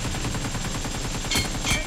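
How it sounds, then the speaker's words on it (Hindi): Rapid gunfire in the mobile shooter BGMI plays over a dense, steady game soundscape, with two brighter bursts of shots late in the clip. "हाँ हाँ मैंने मार दिया हेडशॉट"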